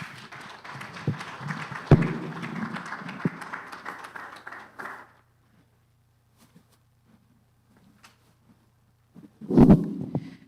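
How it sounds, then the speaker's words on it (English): An audience claps after a speech at a legal advisers' forum in Nigeria: steady, moderately loud applause runs for several seconds and then stops, followed by near silence and a brief final flurry of claps. "can we give another warm, resounding round of applause for the authority"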